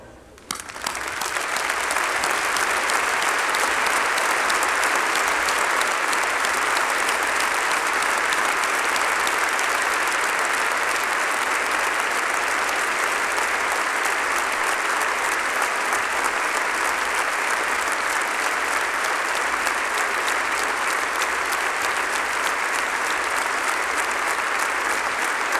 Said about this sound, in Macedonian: аплауз